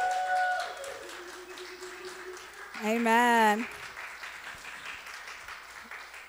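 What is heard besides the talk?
church congregation applauding mothers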